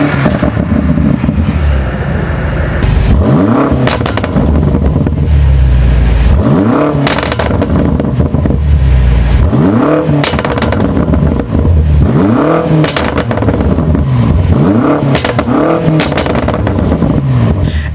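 A BMW F90 M5 engine revs hard and close in a series of rising and falling blips, with a deep, loud exhaust note and no talking.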